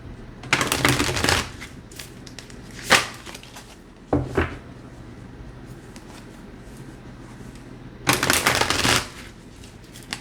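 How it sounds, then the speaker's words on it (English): Light Seers tarot cards shuffled by hand in several brisk bursts of riffling and flicking, close and loud, with quiet pauses between. "I remember how long it took me to get these cards nimble enough to shuffle"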